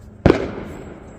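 A single sharp firework bang goes off outside and then decays into a short rumbling tail.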